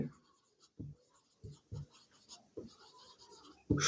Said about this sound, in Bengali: এখানে আমি লিখছি